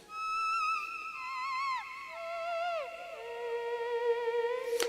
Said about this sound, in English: what you're hearing now is just the theremin itself.